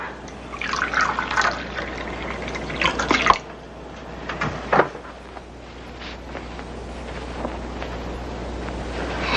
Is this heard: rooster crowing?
no